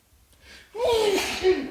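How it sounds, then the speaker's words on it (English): One close sneeze with a sharp intake and forceful burst, fairly loud, trailing off into breath. "Bless you."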